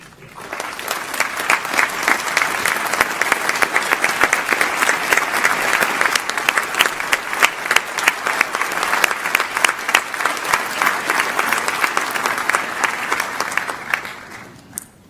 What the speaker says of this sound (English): Would our staff members please stand so I can applaud you?